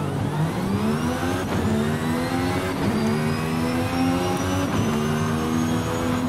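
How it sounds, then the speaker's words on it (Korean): Mercedes-AMG ONE hybrid hypercar in Forza Horizon 5 accelerating hard, its electric motor whine rising alongside the engine note through a series of quick upshifts, loud and continuous with no talk. "이게 들어보시면은 전기 모터랑 엔진 소리랑 동시에 다 들려요"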